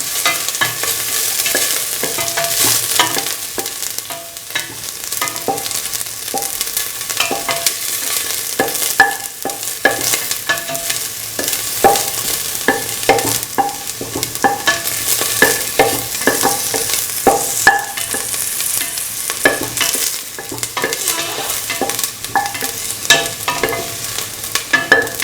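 Ginger and garlic fry in a pan and are stirred thoroughly, giving a continuous close crackling sizzle with frequent scraping taps of the spoon throughout, and no voices.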